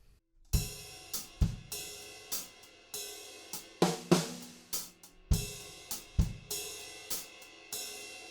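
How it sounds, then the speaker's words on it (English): A drummer plays the bridge groove of a song, right hand riding the ride cymbal and hi-hats over punchy kick and snare hits in a steady, repeating pattern, close and clear with no voices. "the main groove for the bridge sounds like this"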